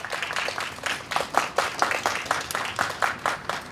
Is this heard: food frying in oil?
no